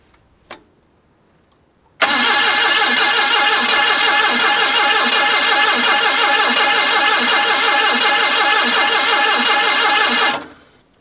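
A Datsun forklift engine cranks on its starter for about eight seconds, a loud, rapid, evenly pulsing churn that never catches, then cuts off abruptly into quiet.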